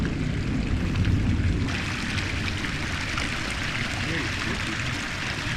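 Mountain creek near Cottonwood Pass in golden trout country, flowing as a steady broadband rush of water, close and continuous, slightly louder in the first two seconds.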